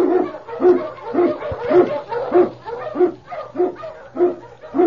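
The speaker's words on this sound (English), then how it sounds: "King, the swiftest, strongest of Eskimo lead dogs, blazes the trail through storm and snow" An Eskimo sled lead dog barks in a steady, rhythmic series of about a dozen close, loud barks, with faint yips between them.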